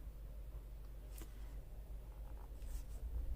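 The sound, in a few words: drawing crosses on paper in a junk journal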